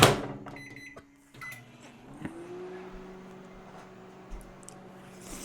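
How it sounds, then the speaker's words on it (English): An old microwave oven: a steady low electric hum drones after a few clicks and beeps, with a faint rattle and occasional clunks over the top. "This microwave is pretty old, by the way."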